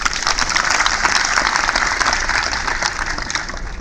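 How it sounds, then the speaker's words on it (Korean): A crowd at a workers' march rally for Renault Samsung Motors union members claps in sustained, dense applause that stays loud and steady throughout. "힘찬 격려의 박수 한번 보내드립시다."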